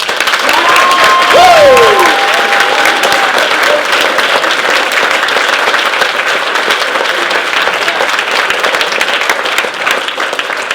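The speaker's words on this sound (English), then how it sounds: "let's give a big round of applause for every one of these." Loud, sustained applause from a convention crowd at All-Con 2014, a dense wash of clapping for the full stretch, with a brief squeal of feedback near the start.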